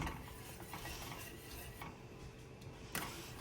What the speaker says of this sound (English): we're gonna do 1 handful at a time and go ahead and whisk it in.